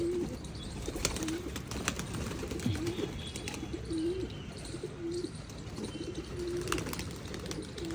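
Pigeons on a rooftop coo in repeated low phrases over a steady background hum, moderately close, with occasional clicks and small bumps.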